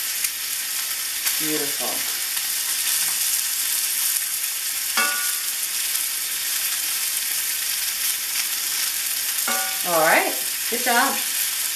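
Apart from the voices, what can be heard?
stirring lemon juice sauce in sizzling pan with spoon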